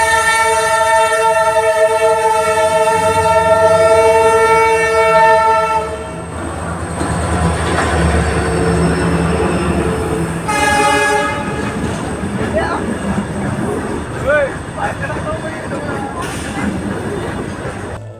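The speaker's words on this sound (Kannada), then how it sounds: "ನೋಡಿ ಟ್ರೈನ್ ಬರ್ತೈತೆ ಈಗ," A train passes near the Dudhsagar tunnel, opening with a loud, sustained horn blast for several seconds, then giving way to a heavy, close rumble and clattering of railcars rolling by.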